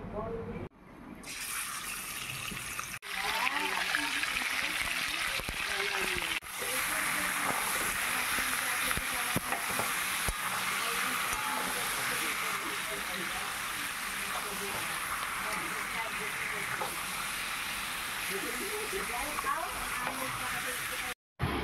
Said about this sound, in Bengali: চিকেনটাকে একটু তেলের মধ্যে ভেজে নিচ্ছি।